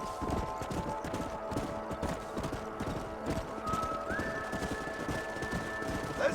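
Horses in the video game Red Dead Redemption trot with a steady, rapid clip-clop of hooves at moderate distance, with an occasional whinny and a low sustained music tone underneath.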